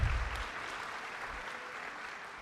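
Applause at a middle school Christmas concert for a mariachi group, a brief, even patter of clapping from a moderate crowd, steady and somewhat distant, with no voices over it.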